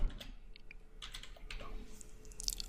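Keys clatter on a computer keyboard in quick irregular bursts of clicks, close and fairly quiet, with no talking over them.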